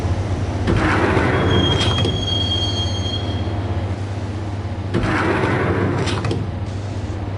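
A subway train in the video game Max Payne rides toward Roscoe Street Station, its steady rumble carrying long metallic wheel squeals that rise and fade twice over the loud, continuous run.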